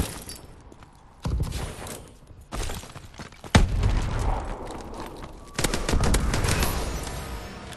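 A sentry gun fires in Call of Duty: Advanced Warfare, with loud bursts of rapid automatic gunfire, sharp impacts and a heavy boom mixed with other in-game combat sounds.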